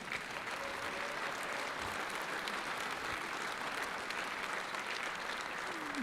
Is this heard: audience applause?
yes